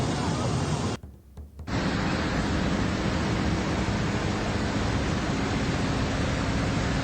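Floodwater surging through a flooded street on Camias Road in Quezon City, a loud, steady rushing roar that dips briefly near the start and then continues unbroken.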